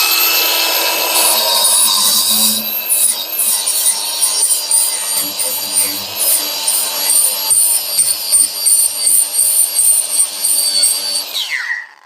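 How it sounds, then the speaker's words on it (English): A flap disc on a power grinder removes burrs from metal during a campervan side window install, a loud continuous high-pitched whine with fluctuating grinding contact. "When you do this with a flapper disc, if you can come closer, Linz, obviously we just got all these burrs."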